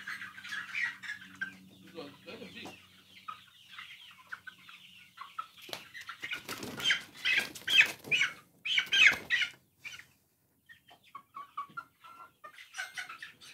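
Chickens cluck and squawk during a fowl typhoid vaccination, the calls close and repeated in bursts, growing louder and more agitated midway with loud flapping and handling noise, then settling to softer clucks.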